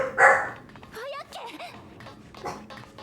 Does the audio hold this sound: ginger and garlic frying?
no